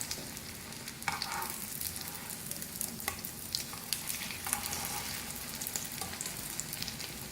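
Chicken shami kebabs made with chana dal sizzle in a pan of hot oil, a steady crackling fry with occasional sharp scrapes and clinks as they are turned one by one.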